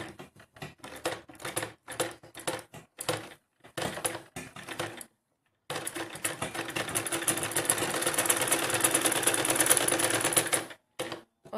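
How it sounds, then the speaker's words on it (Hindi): Sewing machine stitching lace onto the bottom hem of a fancy gown, short stop-start bursts of rapid needle chatter followed by a longer continuous run of stitching, close and distinct with no talking. "इसके ऊपर हम दूसरी सिलाई डबल लगा के इसे कंप्लीट करेंगे"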